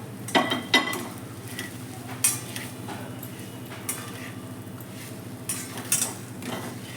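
Roasted semolina is stirred into tomato upma in a pan, with a spoon scraping and clinking against the metal in scattered taps over a low sizzling hum, fairly quiet.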